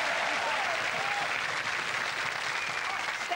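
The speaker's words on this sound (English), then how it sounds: "if you think you'd have done better tonight, applaud loudly." Studio audience applause on a 1994 BBC One quiz show, a steady sustained wash of clapping throughout at even loudness, with no talking over it.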